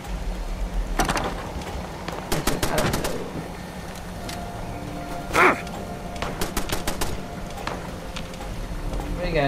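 Gunfire in Fallout 76: several quick bursts of shots in the distance with a louder single crack midway, over a continuous game ambience and some speech.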